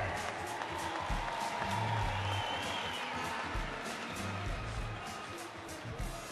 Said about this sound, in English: please a round welcome applause for Mr. Paul Ryan